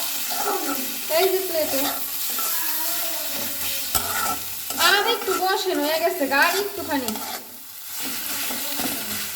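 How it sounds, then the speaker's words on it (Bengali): Fish being cooked bhuna-style with red chilli in a pan, giving a continuous close sizzle and frying hiss with intermittent stirring scrapes, while a voice speaks over it. "দেখো একদম লাল টুকটুকে মরিচ দিয়ে আমি মাছ ভুনা করতেছি"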